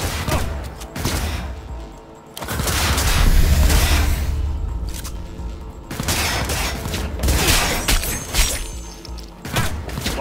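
Dense bursts of gunfire from a shootout in the video game Cyberpunk 2077, loud and close, with rapid volleys, heavy thuds and crashes arriving in waves and brief lulls between them, no voices over it.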